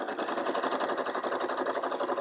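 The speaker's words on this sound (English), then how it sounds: "So now I have my machine on a home sewing machine." A home sewing machine set up for free motion quilting and run at its fastest speed. It gives a rapid, even mechanical clatter that stays loud and close for the whole stretch, with no talking.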